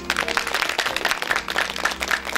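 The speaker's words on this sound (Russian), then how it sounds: "за это ваши аплодисменты" Audience applause at a creative evening honoring a singer from a folk song ensemble: dense, steady clapping from a crowd filling the hall, sustained and fairly loud throughout with no break.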